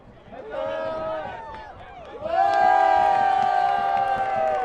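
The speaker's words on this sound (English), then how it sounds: "as we hear some of the chanting from the crowd" Crowd chanting and cheering at an evening soccer match between Central Valley Fuego FC and FC Tucson in Fresno, with many voices sustained and swelling louder halfway through, a dense continuous roar.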